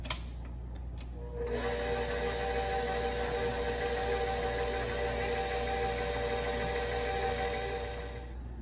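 A stand mixer with a paddle attachment churns cake batter with nuts at a steady, even whir after a brief start. The drone stays moderately loud and continuous, then eases slightly at the end.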